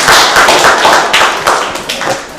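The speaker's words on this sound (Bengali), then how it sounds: "তোমরা সবাই হাততালি দাও।" Children clapping together in a burst of applause, a dense run of sharp hand claps with slight swells, close and fairly loud, with no talk over it.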